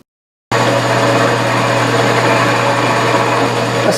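A milling machine reverse boring at 550 RPM starts abruptly after a brief silence, then holds a loud, steady mechanical whine with a constant low hum and no talk.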